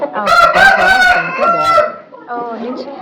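A pacha kaaki fighting rooster, a multicoloured bird with a greenish-black tail, crows loudly and close by in one long drawn-out call, followed by a brief quieter cluck.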